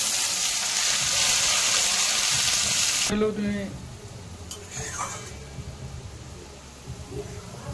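A loud burst of sizzling as chopped onion hits hot oil, then it quiets to softer frying with a few clinks of a utensil against the pan.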